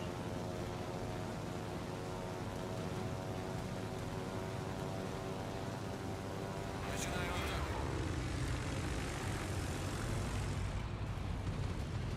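Aircraft engines in the naval video game World of Warships: a steady droning engine hum that swells and shifts pitch after a sharp burst partway through, sustained and fairly loud throughout.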